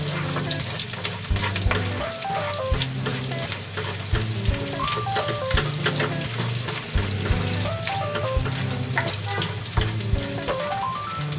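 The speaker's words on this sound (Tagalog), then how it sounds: "Dito ko na rin po iginisa yung ating bawang, sibuyas at kamatis" Garlic, onion and tomato sauté in plenty of fresh cooking oil for boneless milkfish in shrimp paste, a constant close sizzle and crackle with stirring. Steady background music plays throughout.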